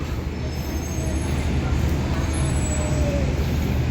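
A loud, low rumble of a train arriving at a station in Thailand, with a steady mechanical roar and faint high squeals of wheels or brakes.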